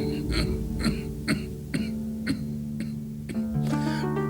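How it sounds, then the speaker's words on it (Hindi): An elderly man in a Bollywood comedy gives a series of rough, rhythmic throat-clearing coughs, roughly one every half second, loud and close, ending in a drawn-out raspy hack. "ये खांसी। हाँ, ये खांसी मियाँ"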